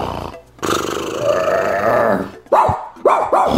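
Dogs bark and growl loudly and close by. Rough, gravelly barks and snarls fill the stretch, then short punchy barks burst out near the end, with no talking.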